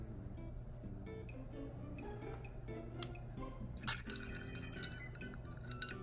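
Water spills and drips while a toy doll's bottle is filled, a run of faint, close liquid ticks and small splashes with one sharper clatter near the middle, over a steady low hum.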